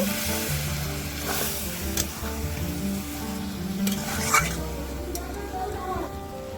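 Malabar spinach being stirred with mustard paste in a pan for a home-style chorchori, giving a steady, fairly loud sizzle with soft scraping strokes throughout, without speech over it.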